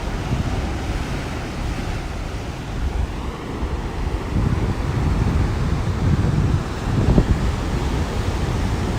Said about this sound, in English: look at what the waves are doing on this side.